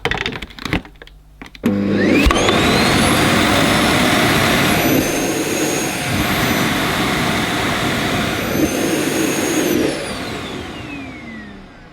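A Samsung Powerstick Jet 90 Pro clean station empties a cordless vacuum bin with a loud, steady jet-like roar, starting after a few clicks and running continuously for about nine seconds before winding down, close by and with no talk.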